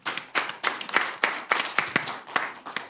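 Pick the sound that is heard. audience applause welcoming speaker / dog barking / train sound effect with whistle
audience applause welcoming speaker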